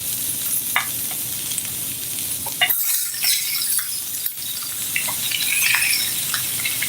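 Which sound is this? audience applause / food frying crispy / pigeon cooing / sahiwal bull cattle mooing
food frying crispy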